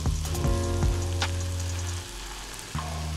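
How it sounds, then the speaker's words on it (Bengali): Beef steak fries in butter in a hot pan, a strong steady sizzle with soft crackling throughout, interrupted by brief clunks of handling, heard up close without speech. "বাটারটা চারিদিকে এভাবে ছড়িয়ে নিয়ে এখানে আমরা স্টেকটাকে বসিয়ে দেব।"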